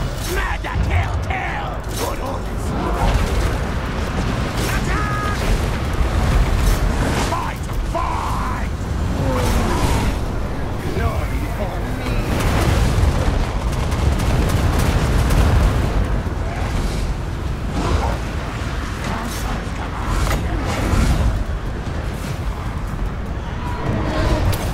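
Warp cannon artillery in a Total War battle booms again and again amid a dense, continuous din of combat, loud throughout, with faint voices now and then.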